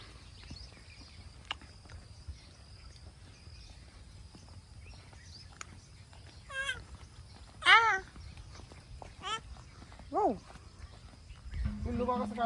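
Kitten meowing in several short, rising-and-falling calls spaced a few seconds apart, fairly close, over a quiet outdoor background with a brief rustle at the end.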